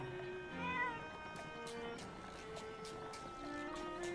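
A cat meows in Animal Crossing: New Horizons, a couple of short, mid-loud calls over steady game background music, with no talking.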